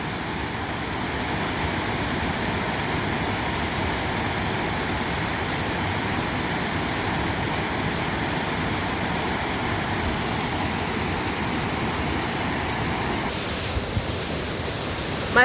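Steady, full-bodied rush of a waterfall, constant and loud, broadband white-noise texture holding unchanged throughout with no voices.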